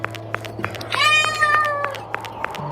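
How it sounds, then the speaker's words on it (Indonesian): A cat meows once in a drawn-out, wavering cry over a steady background hum and scattered faint clicks; the call is fairly close and clear, with no one speaking. "Apa itu? Itu kucing."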